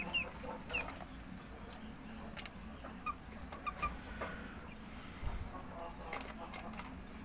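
Free-range plucker chickens clucking outdoors on a farm, a few scattered soft clucks over steady background noise.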